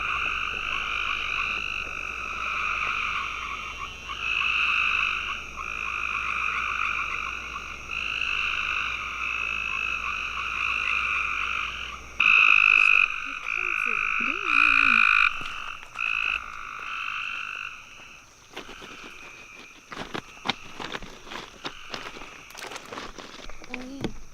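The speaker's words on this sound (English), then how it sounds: "we are headed out here to try to find some frogs" A chorus of frogs croaks and trills steadily at night outdoors, loud and close for the first half, then thinning into scattered calls while people talk over them.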